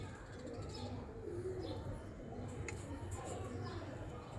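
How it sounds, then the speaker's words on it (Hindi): Pathan pigeons coo softly at a roost, their low, murmuring calls faint over a constant background hiss. "ये पठान कबूतर एंड पे बैठे हैं, ये हैं जी पठान कबूतर"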